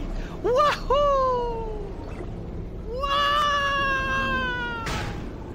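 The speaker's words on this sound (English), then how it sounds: "Is that another cat?" A cat meows in a room in Portal 2 gameplay, two quick rising meows close together, a longer drawn-out meow after a pause, and a short squeak at the end over a faint background hum.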